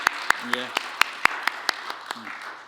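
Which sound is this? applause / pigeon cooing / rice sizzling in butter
applause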